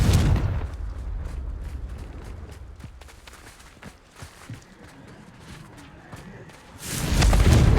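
A Confringo spell explodes in the game Hogwarts Legacy, a loud booming blast that fades into quieter rumbling before a second heavy burst erupts.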